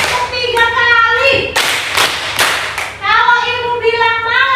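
Classroom clapping game: a burst of two loud hand claps in a row, led by the teacher, with a voice speaking before and after the claps.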